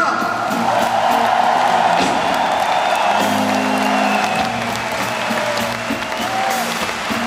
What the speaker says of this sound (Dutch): Ein riesen Applaus für alle Technikerinnen und Techniker!